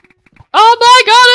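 Three quick bleats in a row from a sheep in Minecraft, loud and close, nasal and wavering, each lasting about a quarter second.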